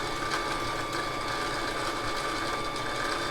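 A Brother LX3817 sewing machine hums steadily at close range, its motor and needle mechanism whirring in a continuous even drone with no talk over it.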